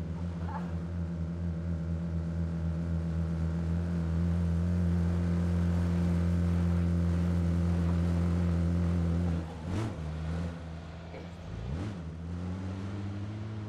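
A car engine drones steadily close by in a video game, a continuous low hum that dips briefly near the end before resuming.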